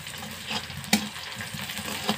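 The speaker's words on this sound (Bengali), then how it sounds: "আবার নাড়াচাড়া করছি" Sliced onions stirred while frying in oil in a pan for chicken curry, a soft steady sizzle with faint scraping strokes and one brief clink of the utensil, fairly quiet with no talk.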